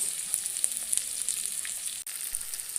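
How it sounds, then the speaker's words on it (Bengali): Chopped onions sizzle in hot oil with cinnamon, cardamom and bay leaf in a pan, a continuous close crackle dotted with small pops and one sharp tap partway through. "এর মধ্যে দিব পেঁয়াজ কুচি দিলাম পেঁয়াজ"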